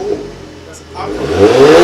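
An Audi TTS with a Scorpion exhaust fires up and rises into a growing engine roar, close and loud, after a quieter moment with a voice.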